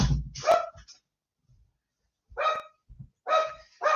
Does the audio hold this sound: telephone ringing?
no